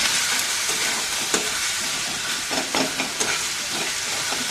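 Ginger, garlic and tomato fry in a pan for paneer bhurji, giving a steady close hiss of sizzling oil broken by occasional scrapes and clicks of stirring.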